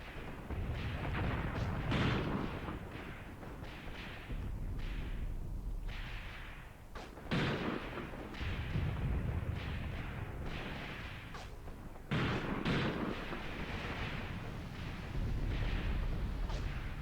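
Artillery shells landing in the Graviteam Tactics war game, a run of deep booming impacts and bursts at irregular intervals, some sharp and close, others duller and farther off.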